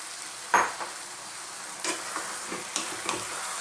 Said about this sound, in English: And with the heat on, I'm just going to throw that around in the pan.